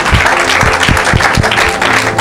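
A congregation at a French-language church sermon on the resurrection breaks into sustained, loud applause with rhythmic clapping throughout.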